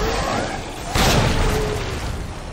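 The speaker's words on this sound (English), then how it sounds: "I'm about to show you that grenade in action." A hand grenade goes off in Resident Evil 2 Remake on PC, playing as Leon: one short, muffled boom about a second in, over steady game background noise.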